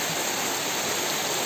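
Heavy rain pours down outside a Kerala house, an unbroken roaring hiss of water, even and close throughout with no voices.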